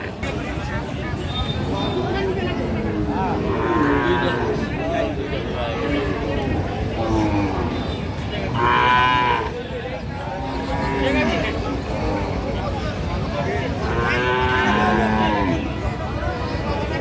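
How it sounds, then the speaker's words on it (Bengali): Cows low repeatedly at a village cattle market, several long moos rising over a steady crowd babble of people talking nearby. "তবে এই গরুগুলি দেখতে পাচ্ছেন"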